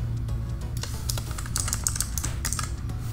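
Computer keyboard keys are typed in a quick irregular patter of light clicks, close and steady, over a low constant hum, with no voices.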